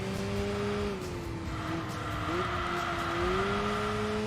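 Jaguar race car in Enthusia Professional Racing, its engine holding a loud, steady droning tone that dips and climbs slightly with throttle changes, close and continuous with faint tire noise underneath.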